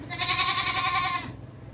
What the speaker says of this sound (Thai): แพะนะคะของน้องแพะแคะ แพะแคระนะคะ